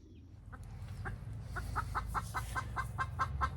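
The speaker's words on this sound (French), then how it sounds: "je vais laisser parler ma poule" A backyard hen clucks in a rising series of short, rhythmic calls close by, growing louder and more insistent over a low ambient background.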